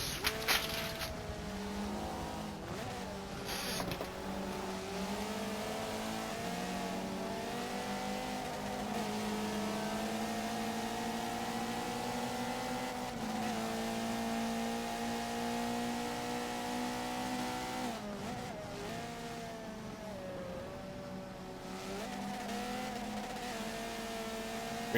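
Touring cars race in a video game at the Bernie's Alps track, with a continuous droning engine note that rises and falls with gear changes and a few brief clicks at the start.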